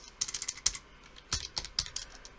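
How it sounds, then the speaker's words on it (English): Quick bursts of keystrokes on a computer keyboard, irregular clicking taps in short runs with brief pauses, close and fairly quiet, no voices. "I'm trying to be very careful with my typing, guys, so I don't get a syntax error"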